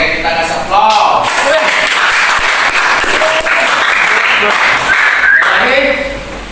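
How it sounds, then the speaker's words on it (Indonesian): Applause from a classroom audience at a teacher performance test session for Islamic religious education, steady clapping sustained for several seconds with some voices mixed in, fading at the end. "Oke, kita kasih aplaus."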